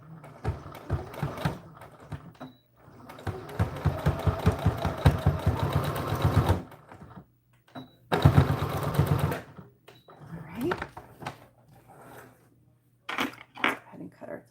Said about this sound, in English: and then you're ready to sew